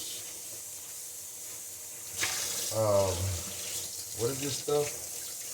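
Water runs steadily from a tap as juicer parts are rinsed of carrot and celery pulp, a continuous close hiss with splashing changes, while someone talks briefly over it.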